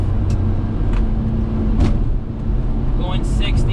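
A Daihatsu HiJet kei truck engine hums at a steady, moderate drone in fourth gear at about 60 km/h, heard from inside the cab with road noise and someone talking over it.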